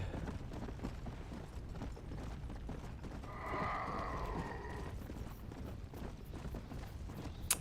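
The zombie horse in Red Dead Redemption: Undead Nightmare clip-clops along steadily in faint game audio. A brief whinny-like cry rises midway, and there is no talk.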